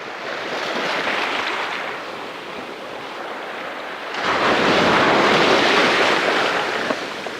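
Storm surf rolls in on a rocky shore at Middle Hope during Storm Freya, a loud, broad wash of breaking waves that swells into a heavier surge partway through, with wind buffeting the microphone.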